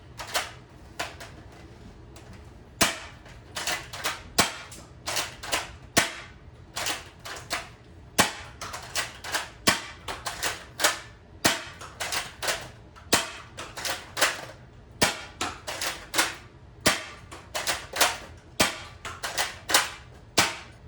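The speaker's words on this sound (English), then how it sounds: "seeing how comfortable it is to shoot with this thing for 10 rounds" Nerf Elite 2.0 CS-10 dart blaster firing about ten rounds, with sharp, close spring-powered pops at a steady rhythm and the rattle of priming between shots.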